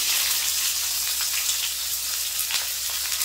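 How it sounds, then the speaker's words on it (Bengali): Chopped onions fry in fish oil after tempering with bay leaf, dried chilli and cumin, giving a loud, close, continuous sizzle with no talk. "পেঁয়াজটা একটু ভাজা ভাজা করে নেবো।"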